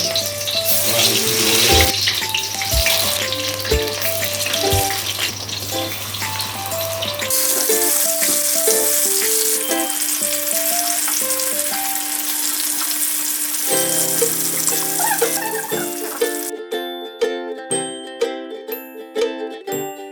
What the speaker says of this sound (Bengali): পুর ভরা পটলগুলো ভাজা হয়ে গেছে